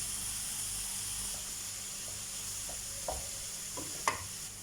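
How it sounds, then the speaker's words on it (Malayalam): Carrots sizzle in a pan while cooking for beetroot carrot halwa, a soft steady hiss with a few light clinks and a sharper tap near the end, with no talking. "അത് കഴിഞ്ഞ് ക്യാരറ്റ് ഇട്ട് കൊടുക്കുക"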